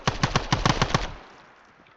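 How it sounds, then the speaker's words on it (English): Automatic gunfire in a Vietnam War video game, a rapid burst of about eight close, loud shots ending in a fading echo. "Well, I shot him like 12 times"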